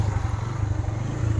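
A tractor rumbles past on a village road, its steady low engine drone loud and close throughout, with a slight chugging pulse and no talk.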